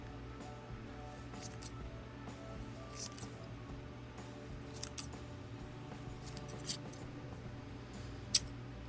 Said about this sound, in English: Then what you want to do is cut the rings.